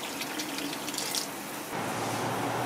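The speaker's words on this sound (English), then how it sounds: "So he's adding some more boiling water." Boiling water pours into a pot of fish broth, a steady close splashing stream that deepens into a fuller, lower gush partway through.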